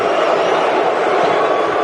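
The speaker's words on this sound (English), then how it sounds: "I can't believe you guys are booing the Cowboys." A large crowd at the 2018 NFL Draft in Texas boos the Dallas Cowboys, a loud, sustained roar of jeering voices filling the short moment without letup.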